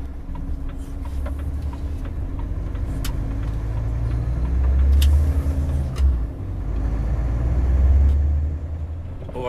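A Volvo truck pulls away, its deep engine rumble swelling and easing over about ten seconds with a brief dip midway, loud and close with faint higher clicks above.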